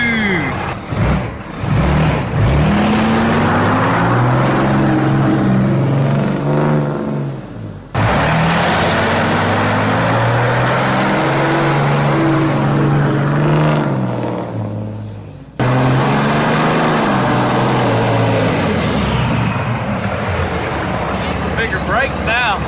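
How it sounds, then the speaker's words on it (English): Ram TRX truck swapped to a Cummins engine, running and driving in three loud passes of deep diesel rumble that climbs in pitch with each pull, broken by cuts and overlapped by talking. "He's officially running and driving, guys, and sounding sick."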